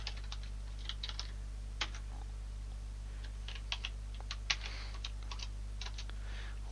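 Code being typed on a computer keyboard: quiet, irregular clusters of key clicks with short pauses, heard alone over a steady low hum.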